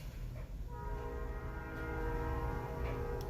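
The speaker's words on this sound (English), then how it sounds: "sorry, I live by the train tracks." A train rumbles past on nearby tracks, a steady low roar with sustained horn-like tones rising through the middle, loud and continuous throughout.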